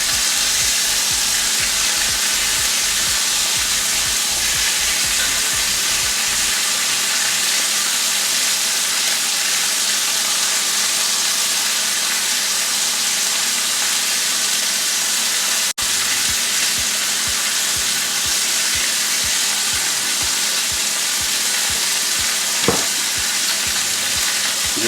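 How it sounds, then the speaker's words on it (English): Parsley butter chicken fries loudly in a pan with a butter mixture added, producing a dense, continuous sizzle and hiss broken by rhythmic stirring scrapes, with a single sharp click partway through. "this is when we go ahead and add our butter mixture. And it's cooking and almost done."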